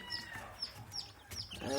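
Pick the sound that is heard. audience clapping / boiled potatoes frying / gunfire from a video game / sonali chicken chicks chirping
sonali chicken chicks chirping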